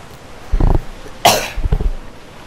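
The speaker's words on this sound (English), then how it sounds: "I'm still sick, so you're going to hear coughing occasionally in the background" Three harsh coughs from a sick person, loud and close, the middle one sharper and more explosive, spaced about half a second apart with quiet room tone between.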